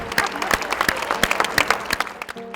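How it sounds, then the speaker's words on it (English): Staff at a free health clinic in a convention center clap as the doors open, a lively patter of distinct handclaps from a group, with some voices mixed in underneath. "Staff to start clapping."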